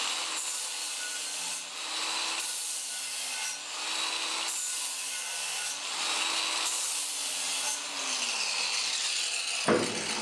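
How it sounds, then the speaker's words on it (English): A cordless angle grinder with a flap disc chamfering a sharp metal edge: a continuous rough, rasping grind in repeated strokes of about a second each, steady and close, ending with an abrupt stop. "this time I'm going to use an angle grinder. This particular one is cordless and I'm using a flap disc."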